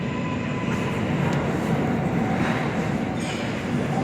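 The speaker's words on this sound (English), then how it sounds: "here's the R188 7 train getting ready to come in" An R188 car on the 7 subway line pulls into the 34th Street station with a loud, steady rumble of wheels and motors that fills the whole stretch, close by and without voices.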